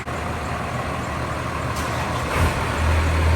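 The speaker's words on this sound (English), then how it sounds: "There's the truck I'm driving." A first generation Cummins truck idles with a steady, rumbling engine drone that grows slightly louder toward the end, heard nearby without any speech.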